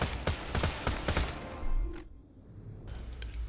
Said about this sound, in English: Bone Shredder special effect is that it always shoots 2 bullets at once.